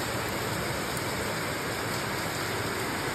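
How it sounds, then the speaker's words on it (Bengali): Heavy rain falls at dawn under dark clouds, making a dense, constant hiss of steady loudness with no pauses and no voices. "প্রচুর বৃষ্টি হচ্ছে, মেঘ একবারে ঘোর করে এসেছে।"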